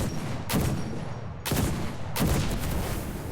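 Three loud anti-tank rifle shots are fired at a Panzer III tank in a video game, each a sharp close blast with a decaying tail, spaced roughly a second apart.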